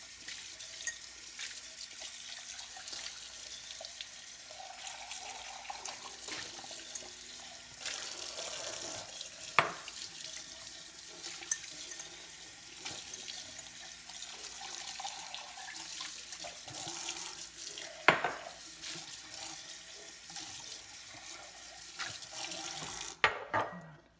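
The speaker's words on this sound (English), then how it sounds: "I rinse them in the hottest water I possibly can." Hot water runs steadily from a tap to rinse canning jars for green beans, a continuous close splashing stream with no talking.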